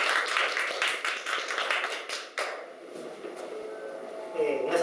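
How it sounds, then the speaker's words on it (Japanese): An audience at an insurance agents' seminar in Japan claps in a brief burst that fades after a couple of seconds, leaving a quieter room with faint movement. "皆さん拍手でお願いします。"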